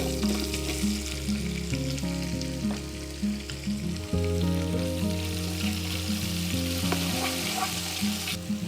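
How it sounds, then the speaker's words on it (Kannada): Sliced onions fry in a large pot on the way to a mutton pulao. A steady, close sizzle runs throughout with occasional stirring scrapes, and a continuous tonal hum sits underneath. No voices are heard. "ಈಗ ಇಲ್ಲಿ ಇದು ಕಂದು ಬಣ್ಣ ಬರುವವರೆಗೂ, ತಿಳಿ ಕಂದು ಬಣ್ಣ ಬರಬೇಕು, ಅಲ್ಲಿವರೆಗೂ ನಾವು ಇದನ್ನು ಫ್ರೈ ಮಾಡ್ಕೊಳ್ಳೋಣ"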